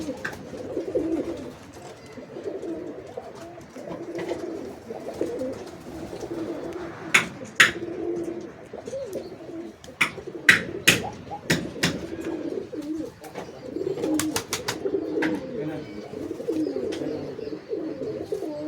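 Madras pigeons coo in soft, low, repeated murmurs close by, broken by several sharp clicks or wing claps midway, with no talking.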